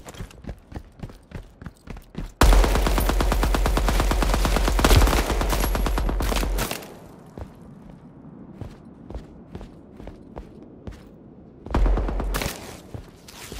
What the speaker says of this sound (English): I think I missed every single shot with that SMG